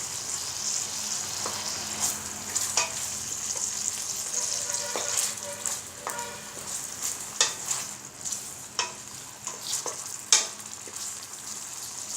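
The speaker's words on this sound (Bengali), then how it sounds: "মাছগুলো আমি একটু সময়ের জন্য রান্না করব, আনুমানিক 5 মিনিট" Hilsa fish sizzles and fries in a pan, a continuous bright crackle and hiss broken by scattered clicks and scrapes of a utensil moving the pieces.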